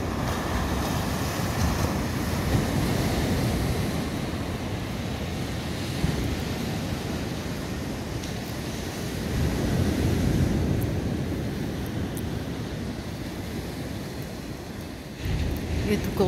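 Steady roar of surf breaking on the south beach at Kiten, Bulgaria, with gusts of wind buffeting the microphone throughout; the waves swell and recede continuously.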